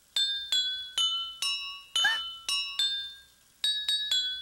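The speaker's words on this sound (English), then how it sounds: "The trick is to fill each glass with just the right amount of water. Different levels of water, different sounds." Drinking glasses filled with different water levels are struck to play a tune, a series of bright clinking tones at varying pitches, each ringing and decaying, close and clear.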